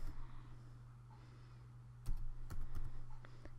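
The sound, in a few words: typing on a computer keyboard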